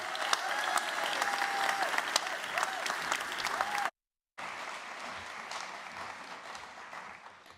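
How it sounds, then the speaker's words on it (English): An audience applauds the director of the John Adams Institute at a literary event, with dense, steady clapping that fills the room, a short gap partway through, then more sustained applause. "Give him a round of applause, please"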